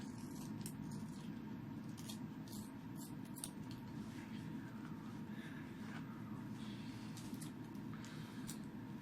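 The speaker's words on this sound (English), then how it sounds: "just hit it with a pair of scissors" Scissors trim the edges of a handmade duct tape holster, a series of quiet, crisp snips heard close against a steady low background hum.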